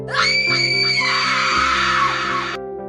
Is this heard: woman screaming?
yes